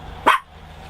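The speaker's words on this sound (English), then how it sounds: "What are you barking at?" A single sharp bark from a dog indoors in a motorhome, loud and close, followed by quiet.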